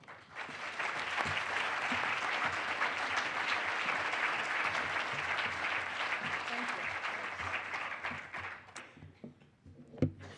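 Audience applause greeting the keynote speaker at a 2015 conference, a loud, steady wash of clapping from a large crowd that holds for about eight seconds, then thins out and fades, ending with a few scattered claps and one sharp tap.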